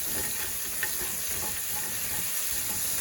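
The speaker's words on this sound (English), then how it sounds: "We're gonna let that saute up for just about 30 seconds or so." Cauliflower fried rice sautéing in oil in a pan, a continuous even sizzle and crackle held steady throughout, close and moderately loud, with no voices.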